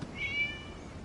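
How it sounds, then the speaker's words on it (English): A single short cat meow in the Genshin Impact video game, a faint, thin tonal cry of about a quarter second rising over quiet background ambience, heard alone with no talk. "It was just a cat"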